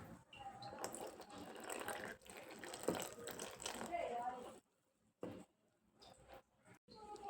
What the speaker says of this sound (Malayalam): ഇനി ഇതിലേക്ക് വെള്ളം ഒഴിക്കണം